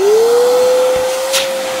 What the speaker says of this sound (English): You guys can hear the vacuum going.